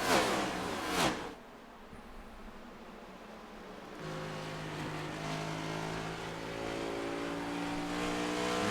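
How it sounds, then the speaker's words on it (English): NASCAR Next Gen race car in iRacing at Phoenix, a sharp burst of engine noise at the start, then a steady engine drone that rises in pitch as the throttle opens, sustained and continuous to the end without talk. "You hear the throttle control of the driver. It's easy on, easy off."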